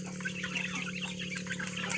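Free-range village chickens and muscovy ducks on a small farm give scattered clucks and calls over a steady low hum, moderately distant and fairly faint.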